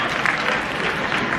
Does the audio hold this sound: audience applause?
yes